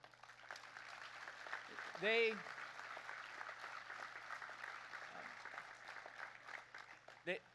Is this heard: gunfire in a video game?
no